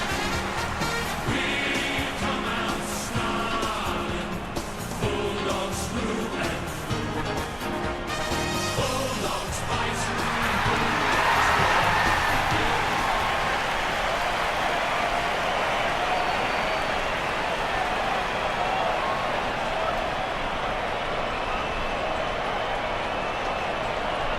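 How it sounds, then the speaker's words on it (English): A stadium crowd in the AFL Evolution video game roars as the Swans run onto the field. Music plays at first, then a broad, steady crowd wash swells and holds for the rest of the stretch. "They're looking sharp, and the crowd are appreciating it."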